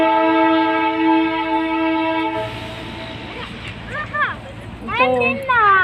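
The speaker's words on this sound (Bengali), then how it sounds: "তো নিচে টয় ট্রেন যাচ্ছে," The Darjeeling toy train passes below Batasia Loop, its horn sounding a long, steady tone from a distance before fading, followed by people talking nearby.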